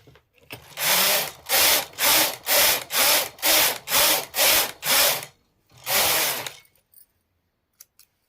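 A knitting machine carriage sweeping back and forth across plain rows of a sweater, about eight steady rasping passes in a regular rhythm, then a pause and one final pass, loud and close with no talking.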